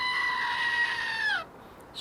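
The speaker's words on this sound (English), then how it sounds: "screaming goats." A goat screams in a single shrill, sustained cry that bends downward and cuts off abruptly, leaving near silence.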